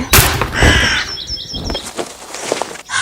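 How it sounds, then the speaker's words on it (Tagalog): Several crows caw loudly nearby, harsh overlapping calls with fainter chirps and some wing flapping behind, no talk. "ang tagal din bago nawala ng mga uwak"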